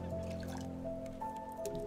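Water drips and squishy liquid sounds from refilling a purifier in the survival video game Raft, a steady close trickle with tonal game hum underneath.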